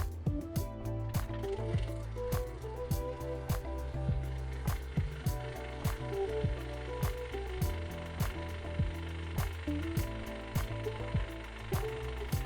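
A freeze dryer's vacuum pump runs steadily with a low mechanical drone and a regular pulsing rhythm, close by and continuous throughout.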